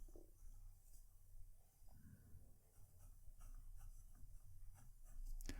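A Narwhal Schuylkill fountain pen with a medium nib scratches softly across paper in continuous strokes, very faint and close, with low room hiss underneath.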